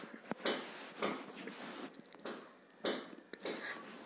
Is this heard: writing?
no